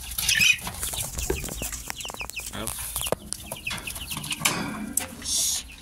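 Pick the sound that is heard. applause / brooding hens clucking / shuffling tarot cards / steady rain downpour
brooding hens clucking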